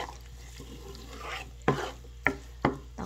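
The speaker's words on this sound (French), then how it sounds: "on va vraiment laisser l'oignon et l'ail cuire" Onion and garlic cooking in a pan, a low steady sizzle broken by three distinct scraping knocks of a utensil stirring, close and clear with no one speaking.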